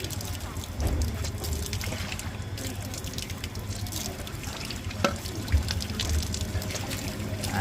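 Water trickling and splashing continuously as a student rinses the mouth three times during ablution at a madrasa, steady and fairly close, with faint voices underneath.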